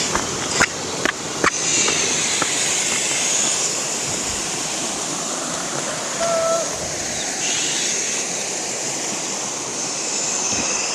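A waterfall pours down between hills in a village setting, giving a steady, broad rush of water throughout, with a few brief sharp knocks near the start.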